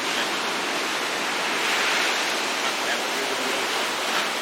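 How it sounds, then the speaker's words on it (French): Steady broadband wash of ocean surf heard from a hotel restaurant on Réunion, a continuous even roar with no distinct breaking waves, moderately loud and constant throughout. "nous allons dîner avec le bruit de l'océan pour fond sonore"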